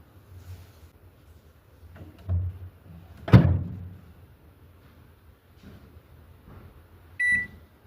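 Microwave oven set to grill with a tray inside: a soft door thud near the middle of the clip, then a short, clear electronic start beep toward the end, in a quiet kitchen.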